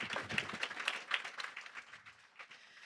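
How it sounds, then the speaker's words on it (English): A conference audience applauds a panel of speakers, a faint, moderately dense clatter of clapping that gradually thins out and softens over a few seconds. "let's give all of our panelists a round of applause"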